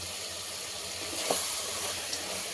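Capsicum masala curry frying in a pan: a steady, even hiss of sizzling oil, close and continuous, with a faint stirring scrape partway through and no voice.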